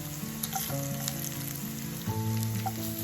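Potato and paneer pieces sizzle in hot oil, a steady close crackle and hiss with no talk, under faint background music.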